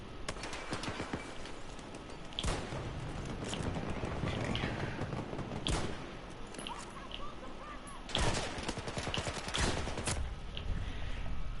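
A sentry gun fires in Battlefield 2042, with sharp bursts and shots at irregular intervals, some loud and close, over a steady bed of battlefield noise.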